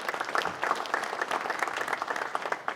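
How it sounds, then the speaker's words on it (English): Steady audience applause at a regional wood-industry association meeting, dense continuous clapping from a crowd that holds an even level for a few seconds without a break. "How about a round of applause for our host here?"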